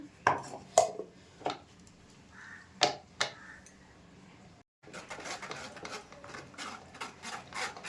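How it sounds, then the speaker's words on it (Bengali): Freshly blended orange juice is poured from a mixer jar through a sieve: sharp taps and clinks at first, then a steady rough scraping and rubbing with small knocks, close and fairly quiet, with no speech. "এবার একটা ছাকনির মধ্যে ঢেলে নিচ্ছি রসটাকে"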